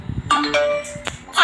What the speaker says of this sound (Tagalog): Gusto nyo ba ganyan din ang ringtone nyo?